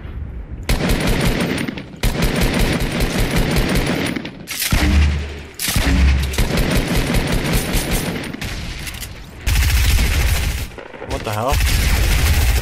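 Automatic gunfire in the video game Fortnite during squad scrims: long, loud, close bursts of rapid shots with brief gaps between them, as players talk and shout over the shooting.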